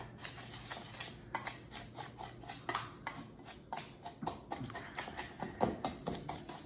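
Salt and grated pecorino romano mixed with garlic in a bowl, a quiet series of rhythmic taps and scrapes of a utensil against the bowl, regular strokes close by with no talking.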